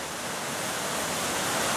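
A waterfall on Mercy Branch, a stream flowing off Paris Mountain in Giles County, Virginia, pours in a loud, continuous, close-up roar of rushing water with no pauses.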